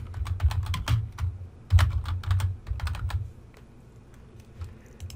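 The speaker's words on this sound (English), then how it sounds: "I'm just going to type, so it's going to be my scene heading." Typing on a computer keyboard while building a PowerPoint storyboard: a close run of quick, light key clicks in uneven bursts, fading to a few scattered taps toward the end, with no voices.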